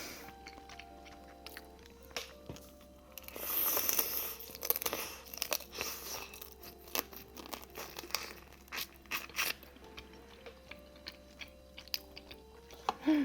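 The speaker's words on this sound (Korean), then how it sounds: "원래 꽃게는 깨물어서 씹어먹고 쪽쪽 빨아먹고" Biting and chewing blue crab meat from a spicy Korean crab stew, close-up: wet crunches, cracking shell and smacking chews in irregular bursts, with a louder run of crunching in the middle.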